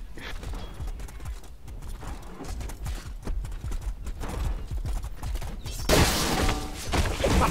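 Horse hooves clip-clop in a rapid, continuous galloping rhythm during a jousting video game, close and fairly loud, with a burst of clattering noise near the end.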